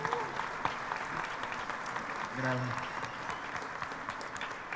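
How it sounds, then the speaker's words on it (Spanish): A film festival panel audience gives a moderate, steady round of applause heard from within the room, with a speaker's voice briefly cutting through partway. "El aplauso para ustedes."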